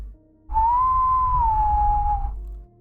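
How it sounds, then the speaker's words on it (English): One long whistled note, pure and steady, rising slightly and then easing down, held for about two seconds over a low rumble, with no talking. "we heard it. Whistling. Just 3 notes, long, low,"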